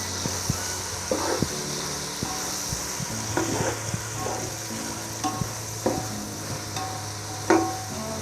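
Fresh mint leaves fry in a pan for chicken biryani: a steady sizzle runs throughout, broken by occasional scraping and stirring knocks. No one speaks.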